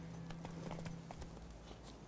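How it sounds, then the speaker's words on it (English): Horse hooves clip-clop at a steady trot in a video game, a quiet rhythmic series of hoof strikes over a faint low hum, no speech. "Let's take horse Sven."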